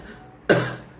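A person gives a single deliberate cough, imitating an old man's cough as a breathing-exercise demonstration. The cough is one short, sharp burst that starts abruptly and fades over about half a second, close and fairly loud.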